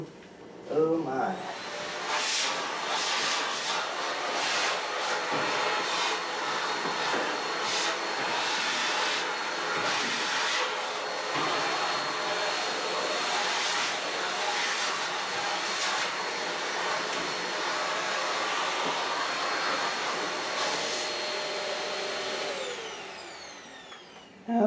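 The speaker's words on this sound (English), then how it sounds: "And I still got the vacuum cleaner here" A vacuum cleaner runs at the back of a dusty Whirlpool dryer during a heating element replacement, with a loud, continuous roar throughout and a few bumps and knocks over it.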